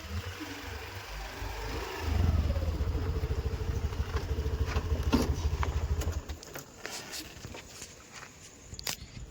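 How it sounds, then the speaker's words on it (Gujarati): A Honda Activa scooter's engine hums into life and carries a steady, moderately loud drone for about four seconds while riding off, then drops away to quieter background noise with a few light knocks. "જો આપણે હવે એક્ટિવા લઈને જઈએ છીએ"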